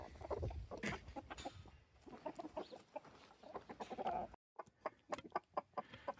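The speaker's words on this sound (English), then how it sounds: "these are my older chickens" Several chickens cluck and murmur close by in a busy, overlapping chorus, with brief sharper calls and a short pause before the clucking resumes.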